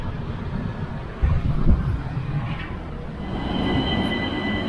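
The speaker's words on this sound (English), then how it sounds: "So this train is coming from Vasutalomas." A train pulls into a station on a Hungarian line, a steady low rumble of wheels and carriage noise building toward the end, with a thump or two of rolling stock near the middle and a faint high squeal.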